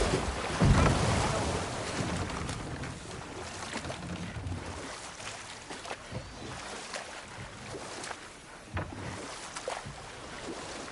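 Rushing water of a waterfall in the video game God of War Ragnarok, a steady broadband roar with a louder surge at the start, continuous and fairly close, with no talk.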